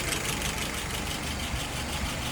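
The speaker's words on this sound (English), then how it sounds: "I got her idling at about 675" A car engine idles steadily nearby at about 675 rpm, a low, even rumble with a faint knocking pulse and no voices.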